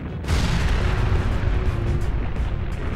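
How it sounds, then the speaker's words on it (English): A loud, sustained explosion roars in the video game Persona 5, starting with a sharp onset and continuing as a dense rumbling blast that fills the whole clip with no talk. "An explosion?"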